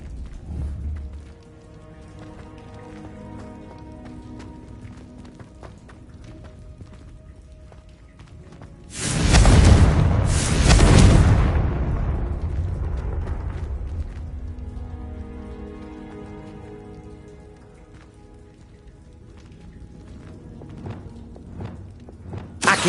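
A Confringo spell blasts in Hogwarts Legacy, a loud fiery explosion bursting out of quiet ambience in two close surges, then a rumbling tail that fades back to a calm background.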